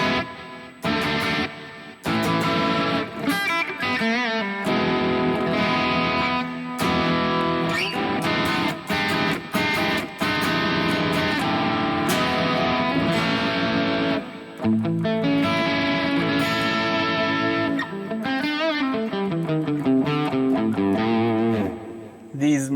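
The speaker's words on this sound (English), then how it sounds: "These Marshall crunch tones." Electric guitar played through a Harley Benton DNAfx Git Pro multi-effects unit on a Marshall-style crunch amp model, with a Fusion 3 HSH pickup guitar, riffing in loud distorted chords and sustained notes with brief gaps, no talk.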